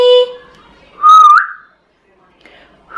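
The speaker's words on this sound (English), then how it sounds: "That is literally the best whistle I have ever done in my entire life." A person whistles indoors in a kitchen: a short tone, then a longer rising whistle, and a final brief note after a pause, loud and close.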